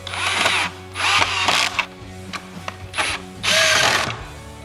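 Power drill driving screws into a bracket while an iQ426HEPA machine is assembled, loud whirring bursts of about a second each that rise and stop in turn, with brief pauses between.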